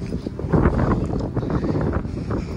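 Steady wind buffets the microphone with a low, continuous rumble and gusty rustle on a mountain hiking trail at Mount Ulap, no voices present.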